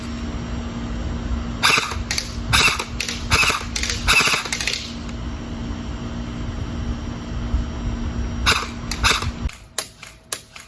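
JG M16 airsoft rifle firing BBs outdoors, heard as loud bursts of sharp rapid shots in several clusters, then a few isolated single shots near the end over a steady background hum.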